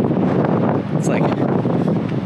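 Strong gusting wind at a coastal overlook near Bandon on the Oregon coast buffets the microphone in a loud, continuous rumbling roar with slight surges.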